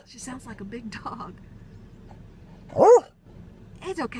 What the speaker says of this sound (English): She sounds like a big dog.